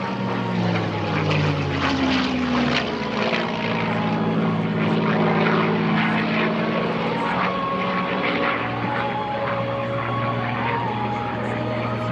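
A P-51D Mustang propeller fighter flown by Vicky Benzing drones overhead at an air show, its engine note rising and falling as it passes, loud and sustained, with crowd and announcer sound beneath.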